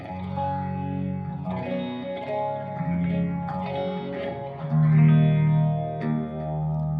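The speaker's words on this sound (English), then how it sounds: "I'll pop on a little bit of the infamous Phase 90" Electric guitar played through an MXR Phase 90 phaser on a Line 6 HX Effects rig, sustained chords and notes swirling with a sweeping phase wash, clean and moderately loud, no talk.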